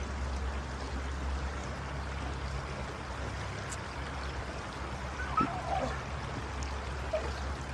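Rushing creek water pours in a constant broadband roar, near and steady throughout, with faint small splashes and occasional bits of activity from two pit bulls at the creek edge.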